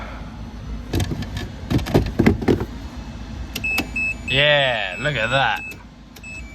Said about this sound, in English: Apologies for the beeping